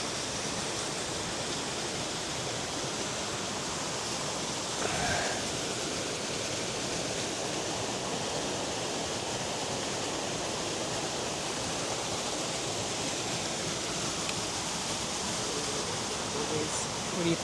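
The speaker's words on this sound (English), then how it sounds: "Some fast flowing water." Fast-flowing water at a waterfall in Ubud, Bali makes a loud, even, continuous roar throughout, with no voices heard.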